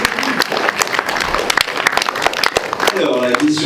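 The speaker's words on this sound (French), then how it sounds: "Oh oui, on applaudit très fort." A horror festival crowd in Boulogne claps loudly for a quiz contestant, a dense burst of hand claps with a host's voice speaking over it.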